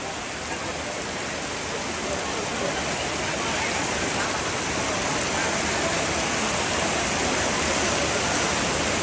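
Heavy rain pours down steadily at a Toraja funeral ceremony at a tongkonan house in Indonesia, a dense, loud, continuous hiss that stays even throughout.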